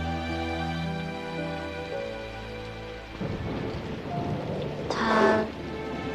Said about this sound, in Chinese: 雷电交加。